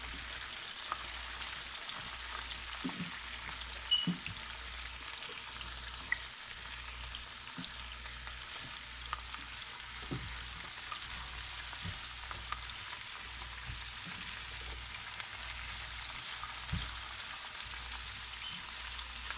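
Vegetables for satay fry in a pan with a steady, soft sizzle throughout, broken now and then by faint stirring clinks.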